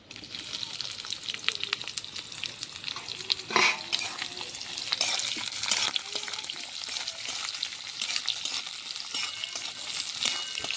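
Chopped onions fry in hot oil in a pan, giving a steady close sizzle broken by the scrape and clatter of stirring.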